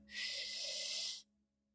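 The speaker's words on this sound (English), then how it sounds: "Try focusing on a deeper inhale and a faster, more powerful exhale." A single forceful, breathy exhale demonstrating a deep running breath, a steady hiss lasting about a second that cuts off abruptly, close and alone.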